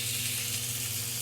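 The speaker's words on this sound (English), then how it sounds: "You take your pork chop, grab it by the bone, lift it up, try and fit it in. That's a sizzle." A pork chop sizzles in hot oil in a pan, giving a steady, dense crackling hiss that stays even and close throughout, with no talking.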